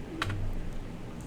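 A few quick keystrokes on a computer keyboard while a VBA macro is being written, short soft clicks close by over a quiet background hum.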